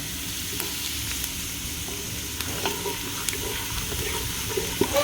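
Ginger sizzles in hot oil in a casserole pot as it crisps, a steady close frying hiss with faint stirring clicks and scrapes scattered throughout.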